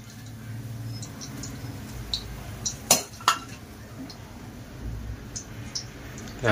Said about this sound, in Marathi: तर चला आता काढून घेऊया एका भांड्यामध्ये.